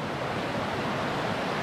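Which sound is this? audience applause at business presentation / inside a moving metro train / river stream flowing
river stream flowing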